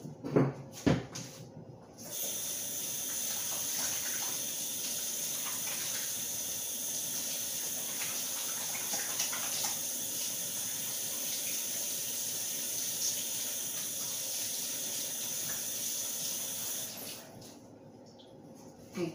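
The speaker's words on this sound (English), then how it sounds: "let me rinse out my hands." Water runs steadily from a kitchen tap into a sink as hands are rinsed during meatloaf preparation, a continuous close hiss lasting most of the clip with brief handling clatter at the start and end.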